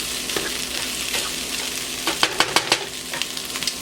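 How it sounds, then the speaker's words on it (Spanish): Chicken and poblano pepper strips sizzle steadily in a pan while a utensil stirs them, adding a series of close scraping knocks near the end. "Y le voy a menear."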